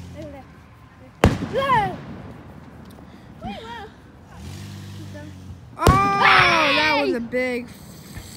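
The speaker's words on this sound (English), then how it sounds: "Big firework." Two sharp Fourth of July firework bangs, each followed by whistling, crackling bursts, with excited voices talking and shouting in between.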